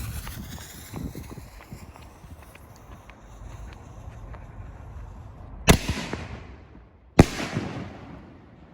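Fireworks shells, including a 5-inch shell, burst in an outdoor parking lot, with two sharp, loud booms several seconds apart echoing off a nearby building over a low background rumble.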